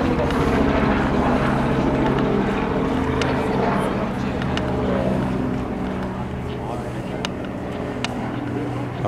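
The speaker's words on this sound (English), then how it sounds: "We've got a helicopter." A low, droning engine rumble from a police helicopter flying overhead above Los Angeles, heard from atop Griffith Observatory, persists steadily, with a voice speaking over it and occasional sharp clicks.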